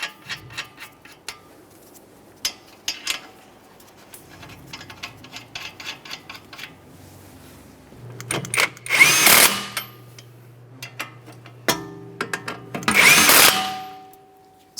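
A power tool tightens suspension knuckle mounting nuts on a 2011-2020 Toyota Sienna, with scattered clicks and light clanks of hardware early on, then two loud bursts of an impact driver rattling hard, separated by a short pause.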